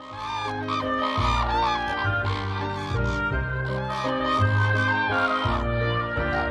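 Red-crowned cranes call in unison during a courtship dance in Japan, loud honking, trumpeting calls overlapping in quick bursts, close and clear without talk.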